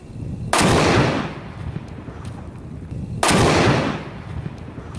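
Two loud, booming explosions blow up a gun fitted with Magpul furniture outdoors, each a sudden blast with a long rumbling decay, a few seconds apart.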